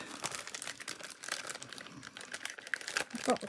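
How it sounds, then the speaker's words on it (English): Close, continuous crinkling of a plastic bag, rustling and crackling steadily without pause. "I might have to just use a plastic bag."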